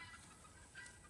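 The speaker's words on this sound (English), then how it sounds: "don't scare those little chickies." Little chicks chirp faintly on a farm where goats are near, with a few soft high peeps over a constant low background rumble, no voices.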